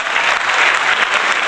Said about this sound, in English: How about a round of applause for Lauren for putting this on?